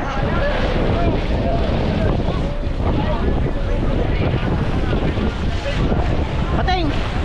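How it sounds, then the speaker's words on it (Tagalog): Strong wind and heavy waves at sea aboard a fishing boat, a loud, steady roar of gusts buffeting the microphone and water churning throughout, with voices heard faintly underneath. "talagang malalaki ang alon at malakas ang hangin"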